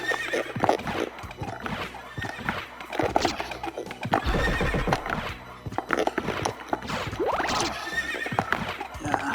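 Horses neigh and whinny over rhythmic galloping hoofbeats in the Castlevania video game, with several loud calls rising above the steady clip-clop.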